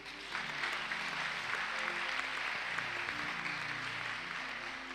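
A church congregation applauds to acclaim Jesus Christ during a worship service, a dense, steady wash of clapping that carries on throughout, with no clear voices over it.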